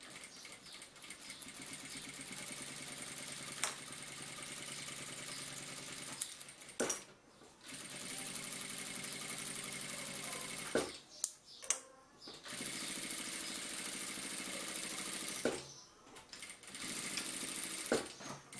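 A sewing machine stitches leatherette for a small pouch at stitch length 2.5, running in long steady bursts broken by several short pauses, fairly close and moderately loud, with no talk.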